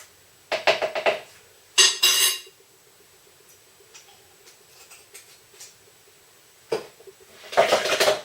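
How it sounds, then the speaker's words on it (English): Egg custard mixture with vanilla essence whisked in a bowl, heard as short bursts of quick clinking and tapping against the bowl, separated by quiet pauses. "give that a good mix"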